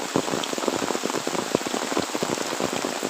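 Heavy rain pours down in a village, a dense, constant patter of drops striking surfaces, steady and fairly close with no voices.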